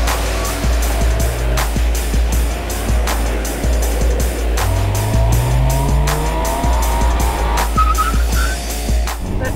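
An SUV brakes and corners hard on a race track. Tires squeal in repeated bursts over a loud, steady engine drone, with sharp skids through the run.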